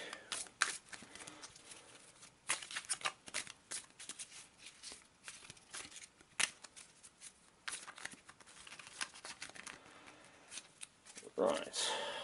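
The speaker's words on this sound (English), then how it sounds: "Quick shuffle." A deck of gear cards is shuffled in quick bursts of papery riffling and slapping, with a voice talking intermittently over the card noise.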